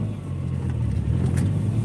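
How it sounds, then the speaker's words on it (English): Steady engine drone of a car under acceleration with a faint whine riding over a low rumble, close and continuous without speech. "that little whine is driving me crazy. And it wasn't doing it before"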